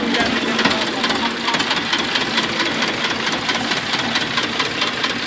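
A 1993 HMT 2511 two-cylinder tractor engine idles close by with a steady, loud, rough chugging and rapid knocking pulses throughout.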